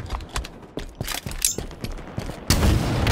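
Rocket launcher fire in the game Halo Infinite during a capture-the-flag match: a string of sharp blasts and booms in quick succession, loud and close, ending in a sustained roar of explosion noise.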